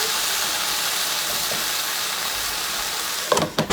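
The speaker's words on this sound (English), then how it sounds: "I'm gonna steam this just a little bit." Kale steaming in a pan, giving a steady, even hiss of sizzle and steam that runs throughout, closing with a few clattering stirs or pan knocks near the end.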